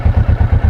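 Kawasaki Vulcan S parallel-twin motorcycle engine idling close by with an aftermarket exhaust valve, a steady low, even thumping pulse repeating about seven times in under a second, with no voices.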